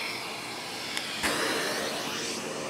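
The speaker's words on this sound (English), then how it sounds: "Working vacuum." A Philips Turbo Compact TC535 vacuum cleaner runs steadily with a hissing whoosh, briefly interrupted by a couple of sharp clicks, nearby and moderately loud.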